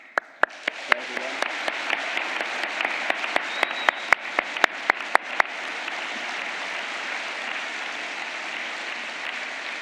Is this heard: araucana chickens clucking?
no